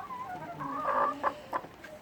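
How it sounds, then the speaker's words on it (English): Several chickens cluck and murmur close by in a shed on an allotment, with a few sharper squawks rising over a constant low background noise. "we've just put the chickens over into the shed there that Tony's just brought in Courtney."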